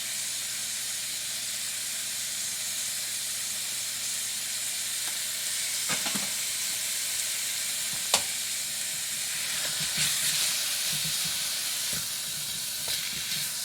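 Minced meat browns in a pan for pirozhki filling, a steady close sizzle and hiss with a few scrapes and clicks of stirring, no talk.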